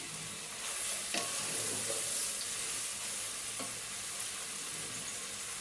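Onion and green chilies fry in a pan with a soft, steady sizzle, and a few quick clinks and scrapes of stirring come through over the quiet background.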